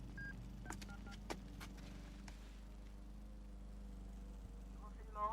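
A telephone number is dialed, with a short run of separate keypad tones heard over a low steady hum, each beep brief and fairly clear.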